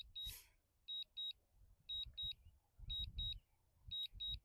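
An electronic alarm beeps in quick high-pitched pairs, repeating several times over a low rumbling background.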